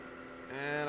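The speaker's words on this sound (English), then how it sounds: "You heard the motor switch into a slower speed." The motor of a DCM IG-180 SD rotary surface grinder hums quietly, then shifts halfway through into a lower, rising, more tonal drone as it changes to a slower speed.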